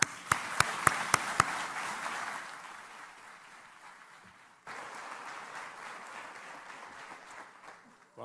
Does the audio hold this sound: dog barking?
no